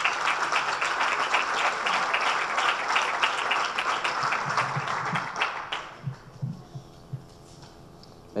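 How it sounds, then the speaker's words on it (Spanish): Audience applause at a 50th-anniversary tribute event for USISA in Isla Cristina, dense clapping that fills most of the clip before thinning to a few scattered claps near the end. "Un aplauso para ella."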